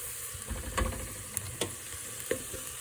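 Vegetable broth goes into a pot of toasted vegetables, giving a steady close sizzle and bubbling hiss with scattered clinks and stirring knocks, no voices over it.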